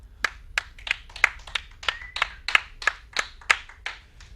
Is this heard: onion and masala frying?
no